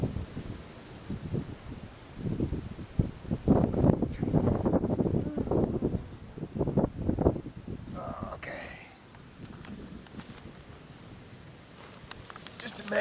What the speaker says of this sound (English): still that wind is just biting cold